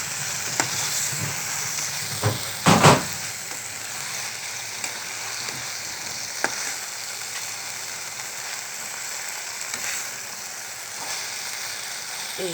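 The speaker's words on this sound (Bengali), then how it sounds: "এটাকে ভালো করে কষিয়ে নিচ্ছি" Beef curry sautés and is stirred in a pan. A continuous sizzle carries on throughout, with occasional sharp knocks and scrapes of a utensil and one louder clatter near the start.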